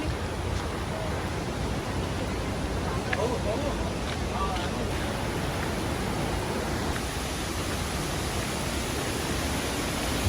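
Bomburu Ella waterfall running in high water, a dense, steady roar of rushing water that fills the whole stretch at constant loudness with no pauses.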